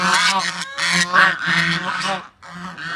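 Chinese geese at a farmhouse honk loudly and close by, several harsh, drawn-out calls running almost continuously with a brief pause near the end.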